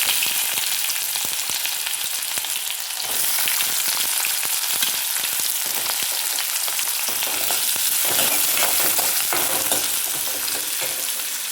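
Onions cooking in a few spoonfuls of oil give off a loud, dense sizzle throughout, with intermittent scraping and stirring clatter near the pan and no talking.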